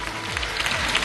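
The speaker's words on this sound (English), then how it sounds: "Give them a round of applause, because they are the champions." A school quiz-competition audience applauds the champions with a dense, steady patter of clapping across the whole short moment.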